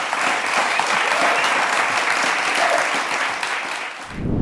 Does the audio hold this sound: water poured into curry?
no